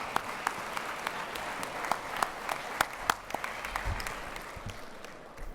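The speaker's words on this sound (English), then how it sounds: "So let's give them all a round of applause." A conference audience applauds the panelists of a state transportation officials' roundtable, steady clapping from a moderately distant crowd with a few sharper claps standing out.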